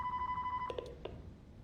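A telephone in the video game Five Nights at Freddy's Plus rings faintly, a thin steady tone followed by a few short electronic rings over a low background hum.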